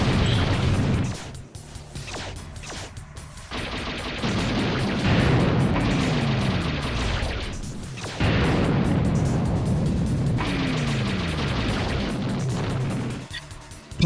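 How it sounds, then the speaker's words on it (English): Booming polygon explosions in the video game TerminalFury burst over a continuous rumbling background of in-game noise, with several crashing impacts and a descending whooshing tone. "Polygon explosions work on more model types now."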